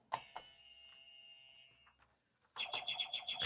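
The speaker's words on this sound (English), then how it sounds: "Can you guys just test your buzzers, see if they work?" Electronic buzzers sound one after another: a sustained tone after a couple of clicks, then a rapid, pulsing buzz near the end.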